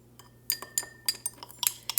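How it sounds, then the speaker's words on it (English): A glass stir rod clinks against its glass container while stirring calcium chloride into water: a series of light, bright, close ticks at an uneven rhythm over a faint steady hum, with no talking. "Here's my glass stir rod."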